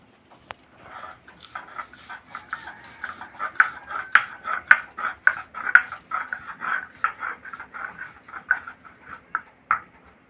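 Poppy seeds and cashews ground to a fine paste, likely on a grinding stone: a steady run of rhythmic scraping and knocking strokes, close and fairly loud, with no talking.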